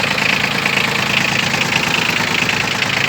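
A four-wheel-drive tractor, just started on a frosty day during its break-in period, idles loud and close with an even, throbbing, slightly knocking rumble and no talking.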